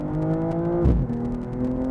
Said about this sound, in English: Floor the brakes, floor the gas pedal, and we're off.